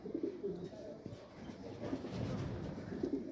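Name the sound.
racing pigeon cooing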